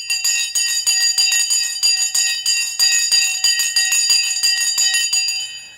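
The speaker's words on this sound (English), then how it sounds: "The Sensei bell is rung." A stock market opening bell rings loud and close, a long, rapid run of metallic strikes lasting several seconds before it fades, with no talk over it.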